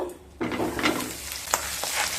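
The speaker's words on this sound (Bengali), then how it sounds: "ডিমগুলো দিয়ে ভেজে নেব।" Boiled eggs dropped into hot mustard oil with a little salt, a sudden loud sizzle starting after a short quiet moment and crackling steadily with a few sharp pops, close by and with no talking.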